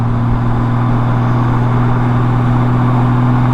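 Honda Goldwing motorcycle engine running steadily while riding, a loud continuous low hum with strong steady tones and constant road and wind noise, close and unbroken throughout.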